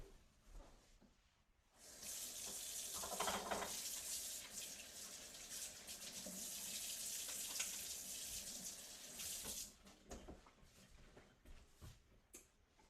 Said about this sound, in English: So all I'm going to do now is wash my hands first.